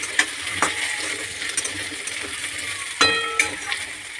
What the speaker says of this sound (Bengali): কচুরমুখিটা আর আলুটা ভালো করে ভাজতে থাকবো